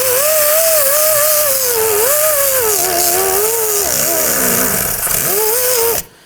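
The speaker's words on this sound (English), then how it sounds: "Then we're going to use our disc here to go ahead and clean up the surfaces." An abrasive disc grinds rust off the steering knuckle of a 2005-2009 Subaru Legacy during a rear CV axle job, a loud, close, continuous whine that wavers in pitch as pressure changes, then cuts off abruptly at the end.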